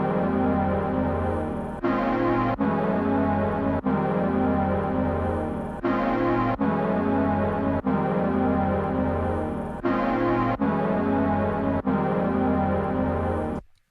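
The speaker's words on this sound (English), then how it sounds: "So the next sound that I added were these chords." Sustained synth chords made in Reaktor 6, with a dense, warm harmonic wash, changing roughly every two seconds with brief breaks between them, loud and steady.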